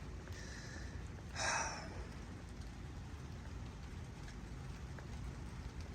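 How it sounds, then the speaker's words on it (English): Rain falls steadily outdoors as a soft, even hiss with faint drops, broken once by a brief nearby breath or sniff. "Oh my, it is raining."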